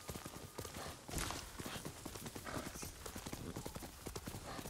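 Horse hooves clip-clop steadily in Ghost of Tsushima, a rapid, even run of hoofbeats heard close and fairly loud, with a brief whinny-like burst early on.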